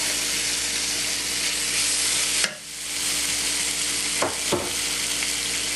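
Roasted poblano strips sautéing in butter with onion and garlic over medium heat give a steady, loud sizzle. A sharp clatter as they go in briefly dips it, and a couple of light stirring knocks come later.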